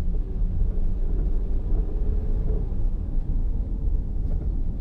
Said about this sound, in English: this is a sound test we'll use driving in the car